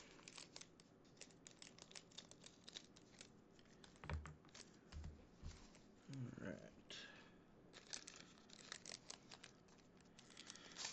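Scissors snip through crinkly sealed trading card packs in several short cuts, close and quiet, with faint rustling and a voice talking softly.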